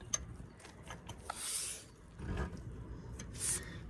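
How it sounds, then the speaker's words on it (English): Ratchet on a tool clicking while tightening a front wheel bearing nut, faint close clicks and mechanical scraping in short bursts, with no talk. "See how it clips like a ratchet"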